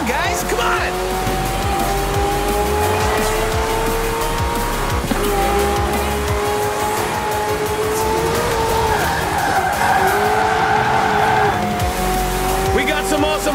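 Racing cars and trucks in Forza Horizon 4 skid and squeal their tires amid roaring engines, a dense, continuous mix of sliding pitches and revving motors, with voices talking over the racket.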